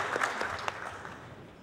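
An audience applauds at a municipal council ceremony, a short burst of scattered clapping that fades quickly, at moderate distance with no talk over it.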